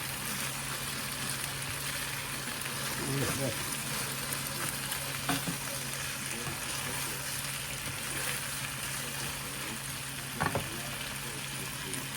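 Rice frying in a pan gives a steady, fairly quiet sizzle throughout, with a few brief scrapes of stirring close by.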